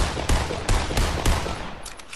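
Close, loud gunfire in Fortnite Battle Royale: three or four punchy shots spaced about half a second apart over a noisy background, with fainter shots near the end.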